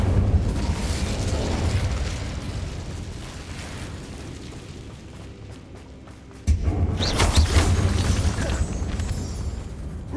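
An Incendio fire spell cast in Hogwarts Legacy, a sustained roaring whoosh of flame that fades and then bursts back with a sudden heavy thump and crackling fire, loud and close.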